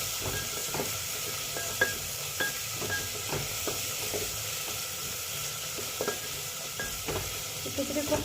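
Onion sautéing in a pan for dal khichdi tadka, a continuous gentle sizzle broken by repeated light clicks and scrapes of a stirring spoon.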